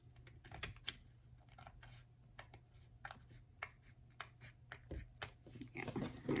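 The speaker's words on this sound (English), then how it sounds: "I think these pages here need to be trimmed a little bit." Pages of a small homemade notebook are trimmed in a string of soft, crisp cutting clicks, quiet and close, with no voice over them.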